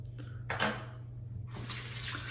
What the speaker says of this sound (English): So let's wash off the face.